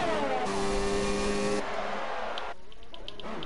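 A racing car in an esports racing game at Bahrain screams at full throttle, then its engine note abruptly cuts and breaks into rough scraping noise as it hits the outside wall.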